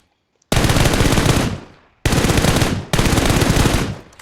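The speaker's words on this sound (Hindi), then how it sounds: "अब मैं बिल्कुल लेट के आपके सामने इसको फायर देता हूँ" Automatic gunfire in a shooter video game, fired while the player lies prone: three loud, sustained bursts of rapid shots, the first about a second long and the next two shorter, with brief gaps between them and no voices.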